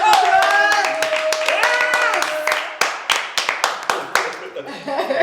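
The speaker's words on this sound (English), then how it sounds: "can we give this man a round of applause?" Audience claps for a man on a sports broadcasting talk show, sharp separate hand claps building into a round of applause alongside a sustained musical tone, loud and close.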